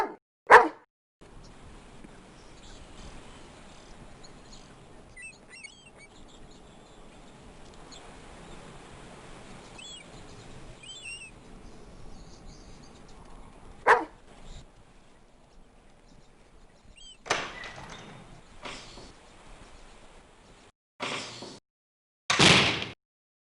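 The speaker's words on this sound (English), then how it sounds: "Nice doggy. Good dog." A dog in the video game Phantasmagoria gives a few sharp barks and yips, spread out with quiet stretches between them against faint background ambience.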